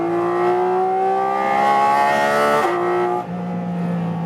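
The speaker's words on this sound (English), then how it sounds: "I love the naturally aspirated engine." Naturally aspirated flat-six of a Porsche 718 GT4 RS pulling hard under acceleration on a racetrack, a loud, steady engine note climbing in pitch, then a brief dip at a gear change before it carries on strongly.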